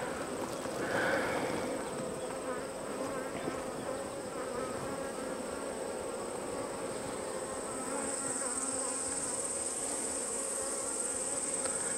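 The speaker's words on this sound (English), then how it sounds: "there's all sorts of bees in here" Dense buzzing of many honeybees fills a queenless hive with laying workers, continuous, close and steady, with a thin high whine layered above the low drone.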